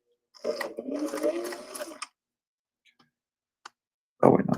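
A home sewing machine stitches fabric for a top in a brief burst, close and clear, then falls quiet apart from a few faint clicks before starting again at the end.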